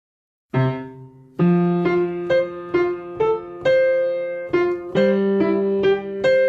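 Piano playing the opening of Maple Leaf Rag with both hands together, a series of distinct chords and notes struck in a lively rhythm, close and clear with each attack ringing briefly, played alone.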